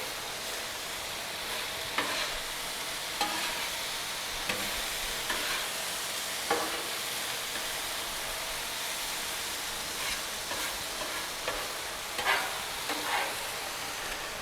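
Vegetables for chicken fried rice frying on a Blackstone griddle, a steady broad sizzle with repeated scraping and stirring clicks from a spatula, close and continuous, with no talking.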